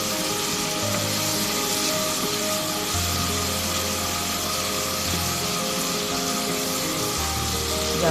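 Garlic paste frying in a pan while being stirred for a Bengali eggplant and dried fish dish, a steady sizzle with scraping and a low hum throughout, no talking.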